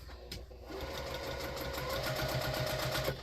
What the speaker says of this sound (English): we're going to go to the sewing machine and we're going to stitch this on at 1/4 inch all the way around the circle